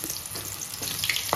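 Jackfruit pieces drop into very hot oil in a kitchen pan, giving a brief, soft, hissing sizzle with crackly bursts.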